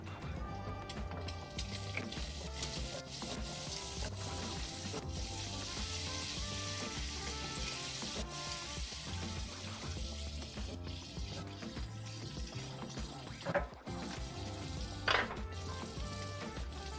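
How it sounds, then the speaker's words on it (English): Bacon sizzles steadily in a pan with a soft, continuous crackle, while occasional stirs and clinks of a utensil against the pan break through near the end. "Need to stir the bacon though."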